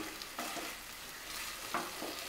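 Green chillies go into a pan of koi fish curry, setting off a steady close sizzle and frying crackle with a few stirring scrapes and brief bursts, no talking.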